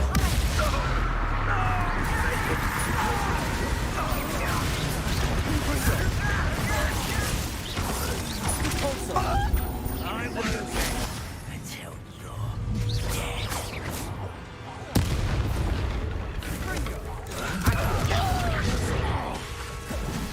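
Spell casting and combat in the video game Hogwarts Legacy: dense, continuous clattering crashes, creaks and mechanical whooshes with sharp impacts, loud throughout with a brief dip midway.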